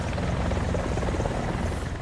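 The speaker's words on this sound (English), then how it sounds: "the high-speed Cheyenne, with its unique pusher propeller" A Cheyenne attack helicopter with a pusher propeller in War Thunder gives off a loud, continuous rotor and engine roar, steady and close throughout, with no voices.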